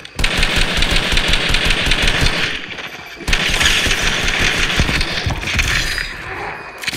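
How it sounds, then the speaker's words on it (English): Rapid automatic gunfire in the Fortnite video game rattles loudly and continuously in two long sustained bursts, separated by a brief pause. "Why do I keep shooting?"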